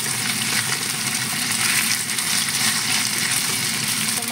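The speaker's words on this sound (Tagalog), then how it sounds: "Continuous lang natin siya na i-fry-fry." Meat for afritada fries in a pan with a loud, steady, close sizzle that holds constant throughout, and no talk over it.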